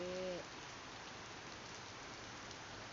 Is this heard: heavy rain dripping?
yes